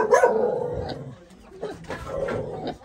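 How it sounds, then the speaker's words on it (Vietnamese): A chained dog on a pig farm barks repeatedly and loudly nearby in several harsh bursts, with short pauses between them. "Có chó xích rồi luôn."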